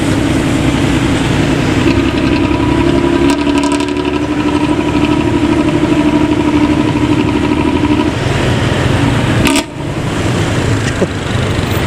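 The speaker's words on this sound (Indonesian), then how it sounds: "Momen langka nih bis Pantura yang masih aktif knalpot ngorok." A Pantura intercity bus on the Subang route roars past with a loud, raspy snoring exhaust, a continuous deep rumble close by that holds steady for about nine seconds and then briefly dips.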